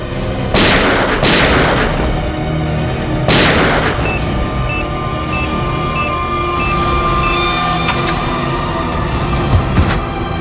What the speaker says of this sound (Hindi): बहुत शौक है तुझे गोली चलाने का?